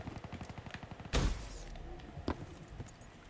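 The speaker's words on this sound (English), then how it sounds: "But this LMG really does the job" A light machine gun in Black Ops 3 rattles in a rapid, even stream of shots, then a loud heavy explosion cuts in, followed by scattered thuds and fainter gunfire.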